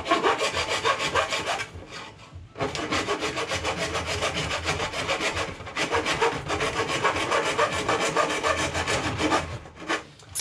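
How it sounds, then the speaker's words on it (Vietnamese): A handsaw cuts through a plastic box while fitting an external ink supply to a Canon IX printer, giving close, rhythmic rasping strokes, back and forth, with a couple of brief pauses. "Rồi ok, mình sẽ cưa."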